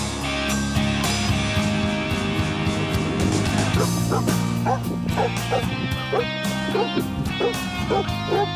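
A dog barks and yips repeatedly alongside cyclists riding on a road trip, excited calls coming in quick bursts over steady road and wind noise.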